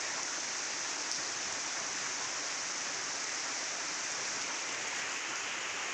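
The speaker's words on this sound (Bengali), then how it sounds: "বাইরে খুব বৃষ্টি হচ্ছে।" Heavy rain pours down steadily outdoors, a dense, even hiss of water that continues unbroken with no voices or other sounds over it.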